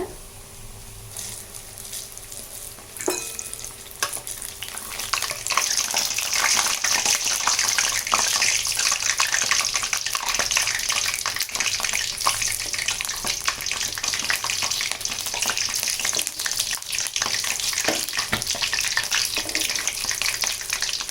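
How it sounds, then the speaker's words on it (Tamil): Continuous loud crackling and bubbling of egg bondas deep frying in oil, close by, steady throughout with occasional clinks. "பொறுமையாக பொரிக்கணும் இது இல்லாட்டினா வெடிக்கும்"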